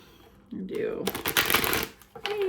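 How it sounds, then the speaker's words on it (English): Quick riffling and flapping of tarot cards being shuffled, close by, in two short bursts with a pause between. "I didn't love that shuffle, so we're going to do one more good one."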